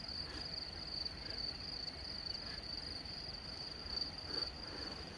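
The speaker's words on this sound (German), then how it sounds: "Und die Heuschrecken, das ist so schön." Grasshoppers chirp steadily in an Emmental meadow on a hike from Grünen to Lützelflüh, a continuous thin high-pitched insect buzz at low level with faint outdoor background and no talking.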